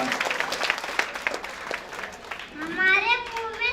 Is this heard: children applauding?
yes